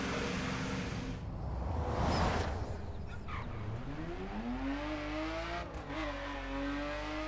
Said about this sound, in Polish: Jestem ciekaw w ogóle, jak ten Skyline brzmi.